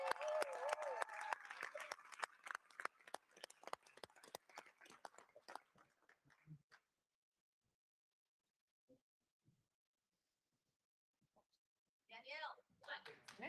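Audience applause at a political debate as a candidate is welcomed, a dense burst of clapping that begins loud and thins into scattered claps before fading to near silence, with a voice returning at the end.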